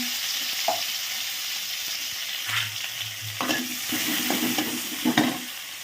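Panch phoron, dry chilli and garlic paste frying in oil, a bright continuous sizzle with bursts of spatter and stirring scrapes building in the second half.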